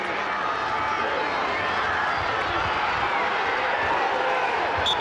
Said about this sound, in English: listen to the crowd erupt